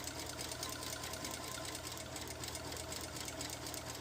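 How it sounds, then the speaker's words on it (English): A sewing machine runs steadily while stitching jacket fabric for a modern sukajan, giving a continuous close mechanical whir with a fast, even needle rhythm throughout. "I'm going to sew this all the way down to the bottom"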